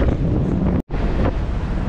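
Heavy wind buffets the microphone over a broad roar of strong ocean surf at Nasugbu beach, with a brief dropout partway through before the rushing noise resumes.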